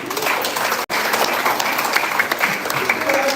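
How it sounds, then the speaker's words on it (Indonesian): Church congregation applauding together at a Christmas service in Papua, a dense, steady round of clapping filling the room, broken by one brief instant of silence, with some murmuring under it. "Kita tepuk tangan untuk ini."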